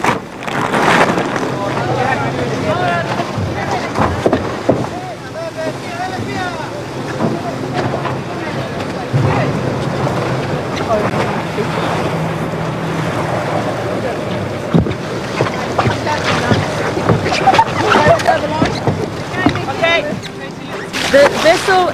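Wind gusting across a racing sailboat at sea, crewed by an all-female team on a non-stop round-the-world record attempt, a constant loud roar and buffeting against the microphone with rushing water and faint voices beneath.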